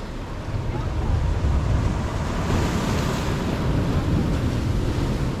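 Waves wash steadily over a boat ramp at the shore, a continuous broadband surf rush mixed with gusting wind buffeting the microphone, loud and close throughout.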